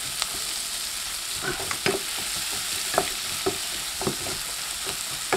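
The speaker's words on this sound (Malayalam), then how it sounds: "അപ്പോൾ നമ്മുടെ ഉള്ളിയെല്ലാം ഏകദേശം ഒരു പകുതി വഴന്തി വന്നിട്ടുണ്ട്." Onions sautéing in oil with turmeric and salt, a soft continuous sizzle with sharp clicks and taps from a stirring spoon scattered through, nearby, no voices.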